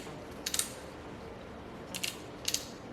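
The lever on a new hair clipper is moved, giving three faint, crisp mechanical clicks: one early, then two close together near the end, over a quiet background hiss.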